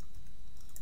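Soft, rapid keystrokes on a computer keyboard clatter faintly and continuously for a brief moment, close by and with no voices.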